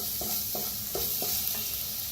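Spices and turmeric roasting in a pan, a constant hiss of sizzling with regular scraping stirs about every third of a second, close and steady.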